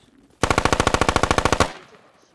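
Sustained automatic rifle fire in the military shooter game Squad, a rapid burst of about eighteen evenly spaced loud shots lasting just over a second, then a fading echoing tail, with no voices.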